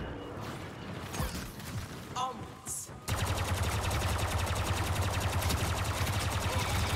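Phasma's blaster hip-fired in the Star Wars Battlefront 2 video game: after a few scattered shots, a dense, continuous stream of rapid repeating fire starts about three seconds in and runs loud and unbroken to the end.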